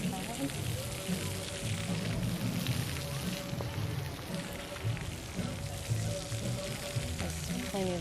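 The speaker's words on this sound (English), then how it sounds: "This is a splash pad." Water splashes and sprays steadily across an outdoor resort splash pad, a continuous hissing wash of droplets hitting the ground at moderate distance, with no talking over it.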